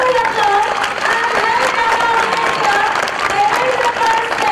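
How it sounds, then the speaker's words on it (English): Children in a school audience applauding for a guest named Tanmay, a dense, steady wash of clapping throughout, loud and close, with some voices mixed in. "Children, put your hands together for Tanmay applause"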